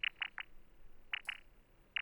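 Short chirpy synth blips from oscillator 3 of the Arturia Pigments soft synth, a handful of quick bright pings in an uneven rhythm with gaps between them, fairly quiet and alone.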